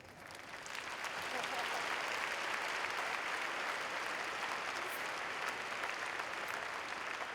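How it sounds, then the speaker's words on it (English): An arena audience applauds at a talk about the Hungarian HUNOR astronaut program, producing dense, sustained clapping that holds steady and loud for several seconds with no voices over it. "This is where the applause comes, by the way"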